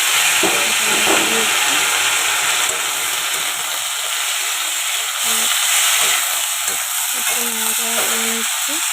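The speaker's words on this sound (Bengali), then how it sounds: "তেলটা একটু গরম হয়ে গেলে আলুটা ঝিঙেটা এবার দিয়ে দেবো" Potato and ridge gourd fry in hot oil with a continuous sizzling hiss and occasional stirring, while a voice talks intermittently over the cooking.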